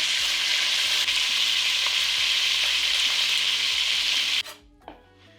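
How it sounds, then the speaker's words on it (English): Chicken drumsticks searing in a pot, an intense close sizzle that runs steadily with faint occasional knocks, then cuts off abruptly near the end, leaving only a couple of faint thuds. "Sear the remaining drumsticks."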